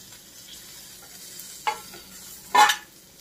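Quiet pan with a faint sizzle of fried fish as pieces are lifted out, broken by two short scraping clinks of a utensil against the pan. No one speaks.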